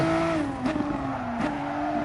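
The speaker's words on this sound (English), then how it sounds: "A lot more tyre squeal." Steady tonal tyre squeal from a VW car cornering on the Nurburgring GP track, sliding slightly downward in pitch over the running engine, with brief bumps of noise, near and constant.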